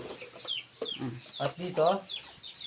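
Hens kept in a coop made from an old house room cluck and chatter in short bursts close by, with someone speaking briefly among them.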